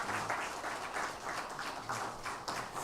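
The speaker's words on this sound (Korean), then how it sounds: "은혜로운 찬양해 주신 성가대원들에게 감사의 박수하겠습니다." A church congregation applauds the choir after a hymn at a Sunday service, a sustained patter of many hands clapping at moderate level, with a few sharper claps standing out near the end.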